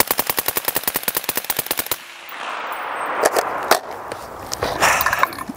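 An AR-15 rifle fires rapidly through a magazine, a fast, loud string of sharp close shots for about two seconds, followed by clattering and rustling handling noises.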